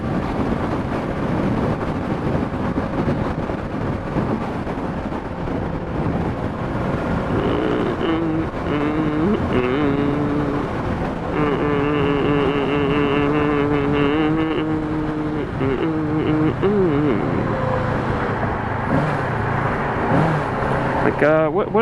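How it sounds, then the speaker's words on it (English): Steady roaring wind buffets the rider on an upright Kawasaki Ninja motorcycle cruising at highway speed around 75–80 mph, with an engine drone underneath and muffled voices breaking in. "the more upright riding position of the Ninja is definitely a bit more wind noise"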